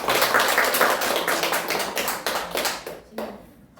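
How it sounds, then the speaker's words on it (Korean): Audience applause at a civic education class, individual claps clearly separated in a dense, lively rhythm that thins out and fades toward the end, with no talking. "자축의 박수 한번 볼까요?"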